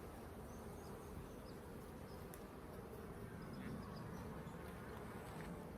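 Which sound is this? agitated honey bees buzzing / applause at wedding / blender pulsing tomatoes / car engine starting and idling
agitated honey bees buzzing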